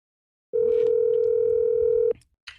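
A steady telephone tone plays for about a second and a half while a call is placed, then cuts off, followed by a brief faint sound.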